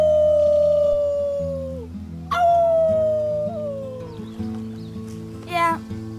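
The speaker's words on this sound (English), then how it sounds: "Let's start with our team howl." Characters in the video game Life Is Strange 2 do a team howl: long, wavering voiced howls that rise and fall over a steady low music bed, with a sharper howl breaking in midway and another near the end.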